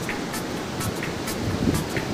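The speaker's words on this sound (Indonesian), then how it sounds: "ombaknya menerpa" Sea waves wash against a village shore in a steady, close roar of surf and rushing water, with wind buffeting the microphone for the whole short stretch.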